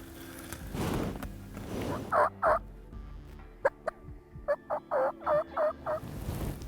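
Several young wild turkeys (jakes) gobble in quick bursts, fairly close, the calls clustering into a rapid series near the end over quiet outdoor background, during a turkey hunt in Nebraska.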